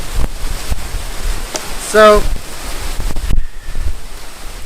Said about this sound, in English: I didn't feel comfortable sitting on the railings with all this crazy wind.